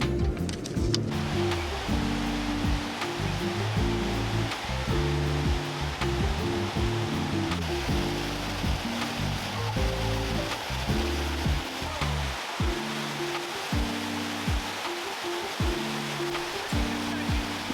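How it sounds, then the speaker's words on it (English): A steady, full roar of rushing water from a waterfall close by in the Great Smoky Mountains, with a low rumbling layer of tones running underneath. "Waterfall."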